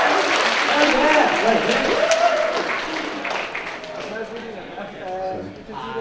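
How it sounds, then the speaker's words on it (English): Convention panel audience clapping in a hall, a scattered burst of many hands mixed with crowd chatter and talking, fading somewhat toward the end. "If you can hear me, clap twice."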